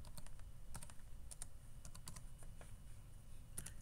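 A password is typed on a ThinkPad T430 laptop keyboard, with quiet, close, irregular key clicks in quick bursts and short pauses, with no talking.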